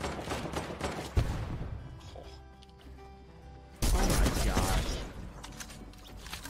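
Bursts of rapid gunfire in Fortnite: a sharp volley, a quieter stretch, then a loud sustained barrage of shots lasting several seconds, close and dense.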